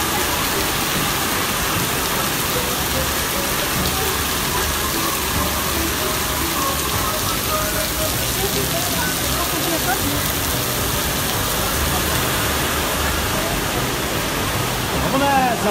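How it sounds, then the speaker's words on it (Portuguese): Heavy rain pours down in Barueri as a dense, unbroken roar of water, loud and constant throughout with no voices over it. "a chuva tá forte aqui em Barueri"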